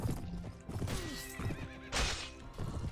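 Horse hooves clip-clopping and a sharp neigh in the medieval battle game Mount and Blade Warband, with clashing battle noise around them and a loud burst of whinnying near the middle.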